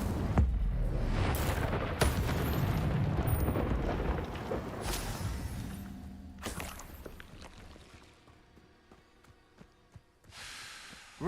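A fire spell whooshes and roars in a Harry Potter video game, a loud burst of flaring flame that fades into quieter crackle and game effects over several seconds.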